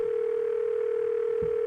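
A continuous, steady telephone dial tone hums alone at an even level with no breaks, a single sustained pitch with a faint low thump near the end.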